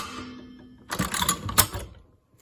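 Cowboy Outlaw hand-stitcher leather sewing machine working through leather, a short burst of clattering mechanical strokes after a quiet lead-in, close and fairly loud, with no talk.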